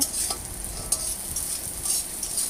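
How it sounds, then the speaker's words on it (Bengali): Onion and garlic fry in a pan with a continuous soft sizzle and occasional stirring scrapes, close and steady, with no voices. "আমি এখন পেঁয়াজ রসুনটা একটু ভালো করে ভেজে নিব"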